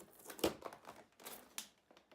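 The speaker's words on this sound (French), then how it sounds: "Et donc détacher les scotch pour arriver aux accessoires." Sticky tape is peeled off a collectible action figure's packaging in a few quick crackling tugs, close and fairly quiet, with short pauses between pulls.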